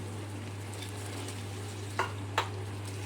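Potatoes frying in a pan for masoor pulao give a steady close sizzle with a low hum beneath, broken by two brief clinks of a utensil near the end.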